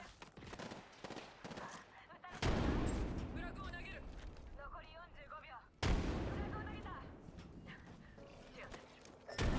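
Two deep, loud grenade explosions in a battle-royale style game, each a sudden heavy boom with a long rumbling decay, spaced a few seconds apart amid scattered gunfire and in-game voice lines.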